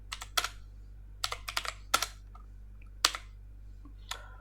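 Code is typed on a computer keyboard in short quiet bursts of clicky keystrokes with brief pauses between, close to the microphone over a faint steady hum, and no one speaks.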